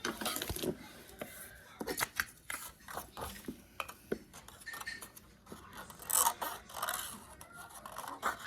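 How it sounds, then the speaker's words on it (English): Scissors cutting out a small paper camera, a close series of crisp, irregular snips and paper rustles, some louder than others. "I'm just going to cut it out"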